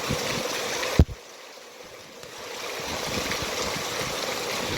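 A river swollen after heavy monsoon rain in Konkan rushes along in a continuous broad roar, broken by one sharp knock near the start before the flow swells again.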